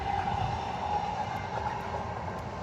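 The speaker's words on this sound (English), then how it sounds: "the train starts coming through right as I start recording" A train passes close by near University Avenue, a steady loud rumble with a whining tone that holds for the whole stretch, with no talking over it.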